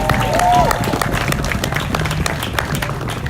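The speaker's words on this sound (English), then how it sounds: "Give me a round of applause." Crowd at a San Diego street protest applauding as the next speaker is introduced, dense clapping and cheering layered with crowd murmur, steady and fairly loud throughout.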